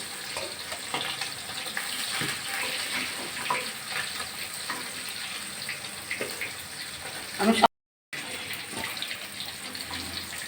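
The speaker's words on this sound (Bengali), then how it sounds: "আমি সমস্ত মাছ একই রকম করে ভেজে তুলে নেব" Pangas fish pieces frying in hot oil, giving a steady close sizzle with brief crackles and a short dropout near the end.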